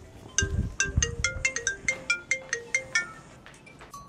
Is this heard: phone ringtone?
yes